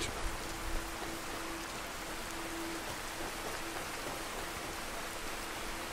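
Steady, dense rain hisses across a Skyrim landscape during a storm, an even wash of falling drops with no pauses, moderately loud and heard alone without voices.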